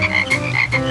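Cartoon frog croaking in a repeated, close, clear series of three or four throaty croaks with tonal bands, no talking.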